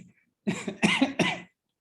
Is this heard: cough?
yes